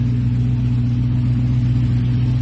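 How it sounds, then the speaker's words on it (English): A BMW E39 540i V8 engine idles steadily nearby at a slightly high idle during a cooling system overhaul, a loud, constant low rumble with no change in pitch. "Alright, so I've got the car running now."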